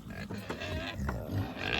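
Breeder pigs on a farm grunt and snort up close in short low bursts, with a busy farmyard bed of sound underneath.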